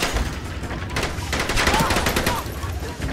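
Gunfire in the game The Bourne Conspiracy: a dense volley of rapid, close shots with sharp repeated cracks over about three seconds, under background game noise.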